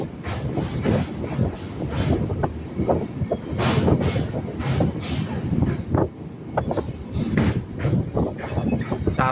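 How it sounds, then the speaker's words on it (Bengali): A local train rolls slowly across the Kolaghat rail bridge over the Rupnarayan river, its wheels clattering in a steady rhythmic clickety-clack with faint squeals, heard loud from on board. "ট্রেন কিন্তু ধীরে ধীরে চলতে চলতে নদী পার হয়ে গেল।"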